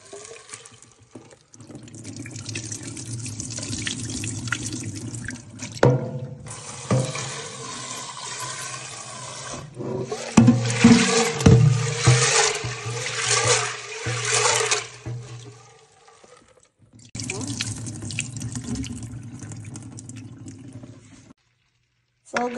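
Tap water runs and splashes in bursts while red peas are washed for Jamaican-style red pea soup, with pauses between pours and louder sloshing in the middle, close and steady.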